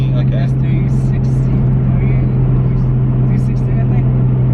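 A Nissan S15 Silvia making 640 whp, fitted with a Grady exhaust and Borg Warner turbo, drones loudly and steadily from inside the cabin with a deep constant tone, with people talking over it and faint turbo chirps.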